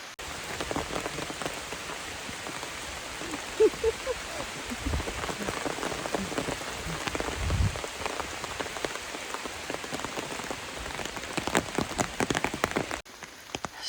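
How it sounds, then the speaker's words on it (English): Steady rain coming down on a mountain trail, a dense continuous patter of drops on leaves and ground that is close and fairly loud, with occasional heavier drips and rustles. "Here comes the rain, Yaya."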